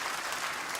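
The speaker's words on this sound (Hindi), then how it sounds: "आप सबकी करतल ध्वनि के साथ, आप सबकी तालियों के साथ" Applause from an audience at a formal legal services event, a dense steady wash of many hands clapping at moderate volume, brief and without voices.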